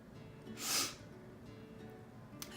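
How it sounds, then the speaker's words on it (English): A single quick, breathy sniff, close but soft, in an otherwise quiet moment. "I'm sorry I keep sniffing, y'all."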